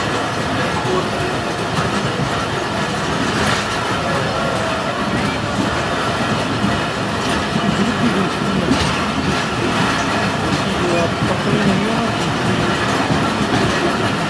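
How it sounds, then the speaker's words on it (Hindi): An HBU-20 locomotive pulling away with its train gives a loud, continuous rumble with steady rolling wheel noise and faint clatter throughout. "ये भी अपनी मंजिल के लिए मूव हो गई है फ्लाइट ट्रेन"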